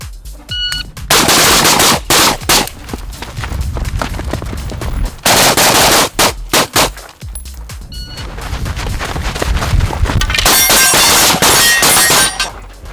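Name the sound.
rifle shots with Surefire RC3 suppressor hitting steel targets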